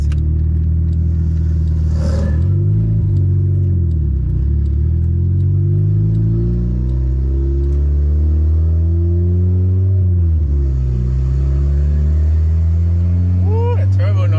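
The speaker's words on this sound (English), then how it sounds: "Woo, that turbo noise." A turbocharged D16Y8 Honda Civic drives down back roads: a steady, loud engine drone rises and falls in pitch as it accelerates, with a brief turbo whoosh near the start and another at the end.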